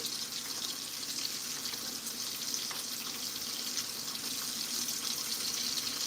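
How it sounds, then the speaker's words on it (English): A steak sears in a frying pan with rosemary, giving a continuous loud hiss of spattering fat that stays even and close for several seconds, no voices. "I want to keep it down on the pan just because I'm trying to get that sear"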